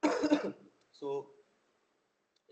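A lecturer teaching a physics class on the electronic theory of solids clears his throat and coughs twice, close and short, in an otherwise quiet room.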